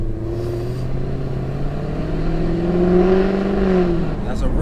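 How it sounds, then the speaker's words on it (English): A high-pitched exhaust on a 700 bhp, methanol-injected Jaguar F-Type S revs loudly and steadily close by, whining and rising in pitch before easing off. "That's a real high-pitched exhaust sound"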